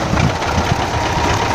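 A tractor engine runs steadily close by, a dense low rumbling drone with a slight knocking texture and no pauses, heard on its own.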